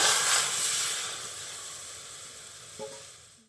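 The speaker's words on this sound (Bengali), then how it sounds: "সয়াবিনটা ফুটে সিদ্ধ হয়ে গেছে" Soaked soybeans boiling in a kadai wok give off a steady, hissing steam sound, loudest at first and gradually fading, with a faint clink near the end and no talking.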